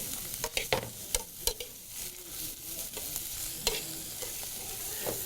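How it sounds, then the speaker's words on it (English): Food is stir-fried in a Chinese wok, a steady sizzle broken by sharp scraping and clanking strokes of the utensil against the metal, close and without talk. "not only are they going to be stir-fried, as I am doing here"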